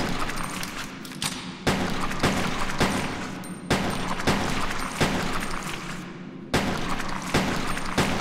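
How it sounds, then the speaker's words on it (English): Gunfire in the Resident Evil Code Veronica X video game, sharp repeated shots at an uneven rhythm across the whole stretch, loud and close over a dense game soundscape with no speech. "You have to shoot them until they disappear."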